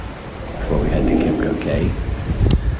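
Wind buffets a microphone on the deck of the cruise ship Utopia of the Seas, a loud low rumbling roar under a man's speech, with a sharp knock near the end.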